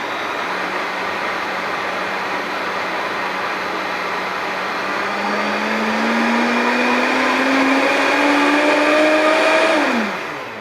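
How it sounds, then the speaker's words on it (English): Countertop blender whirring a green drink, a loud steady motor whine that climbs gradually in pitch as the contents smooth out, then drops sharply as it shuts off. "we're just going to blend that all up together real good. Let it rip again."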